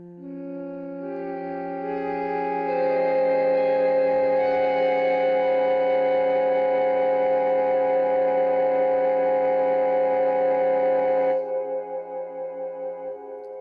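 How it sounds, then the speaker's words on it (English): All nine solfeggio tones sound at once in a dense, dissonant drone. It holds steady for several seconds, then cuts off abruptly. "That is a mishmash of all 9 of the solfeggio tones played at once."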